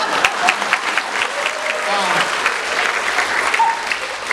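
Loud, dense applause from the audience at a Filipino cultural gala, a steady wash of many hands clapping together close by, with no break for the whole stretch.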